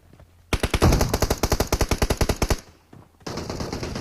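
Gunfire in a first-person shooter video game, shotgun in use: a rapid run of about twenty loud, evenly spaced shots lasting two seconds, then a brief pause and a denser burst of continuous firing.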